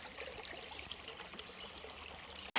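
Water runs steadily through a gold prospecting sluice set in a West Virginia creek, a continuous near trickle and burble that ends in a sudden loud knock.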